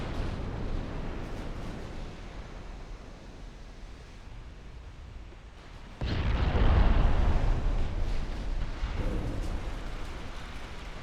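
A battlecruiser's magazine flash-fire explosion in a naval video game opens with a deep, heavy boom partway through. A rumbling roar follows and slowly fades over a low background rumble.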